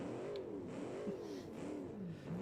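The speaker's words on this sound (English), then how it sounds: "I found a noisy V8 in a tunnel." A noisy V8 car engine in BeamNG Drive revs inside a tunnel, its pitch rising and falling in steady swells over a continuous loud drone with no talking.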